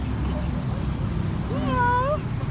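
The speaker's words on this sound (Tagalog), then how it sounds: "Hala, may cute na pusa kuya." A cat meows once near the camera, a rising then falling cry, along a seaside promenade at Manila Bay, over steady traffic and water-vehicle hum with people chatting.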